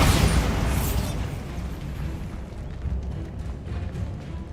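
A Bombarda spell explosion in the Hogwarts Legacy video game: a loud blast at the start that rolls into a long, rumbling decay lasting several seconds, with no voices.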